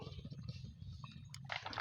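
Water flows and trickles close by at a fishing trap spot, a faint continuous gurgle with brief splashes and drips rising toward the end.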